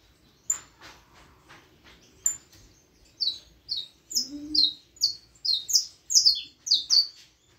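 A male canary sings loudly in a series of bright, rapid chirping trills that grow denser and more insistent, each burst close and clear, with short gaps between phrases and no talking.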